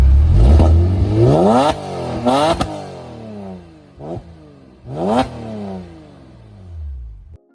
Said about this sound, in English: along with that high-revving metallic Porsche soundtrack